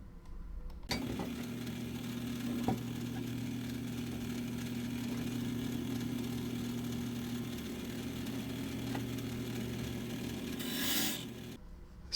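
A wood lathe spins a small wooden bowl blank while the gouge roughs the outside into a cylinder, a steady close motor hum with a continuous scraping, rubbing cut running the whole time after a brief start.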